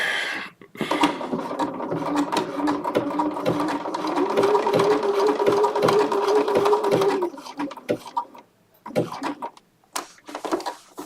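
A Bernina embroidery machine stitches a large sailboat flag in wool, running a fast, even, rattling stitch for most of the clip before it stops, leaving scattered clicks and knocks.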